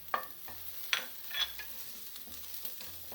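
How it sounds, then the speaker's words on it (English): Grated ginger and green chilies sizzle and crackle in a hot pan while a spoon scrapes and stirs, producing intermittent clatters over the steady fry. "fry the ginger till the rawness goes away"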